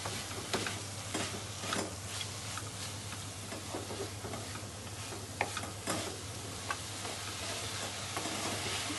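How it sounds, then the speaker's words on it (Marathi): Grated coconut and sugar being stirred in a pan for festive coconut ladoos, with steady scraping strokes over a soft continuous sizzle, alone and fairly quiet. "साखर वे विरगळते व्यवस्थित परतून घ्या"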